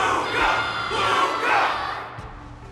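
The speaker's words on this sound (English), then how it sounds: "Can't you hear? Everyone's cheering for you, Luca!" A crowd cheers and shouts in sustained, swelling waves, loud and close, with massed voices rising and falling in a battle-cry roar.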